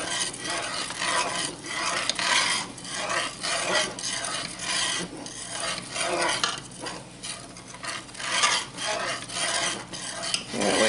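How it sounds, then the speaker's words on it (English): Utensil scraping and stirring through boiling wild plum jelly in a pot, a continuous rasping, rubbing texture with rhythmic strokes, close and fairly quiet, no voices. "Now turn the fire off and keep stirring it until that boiling stops."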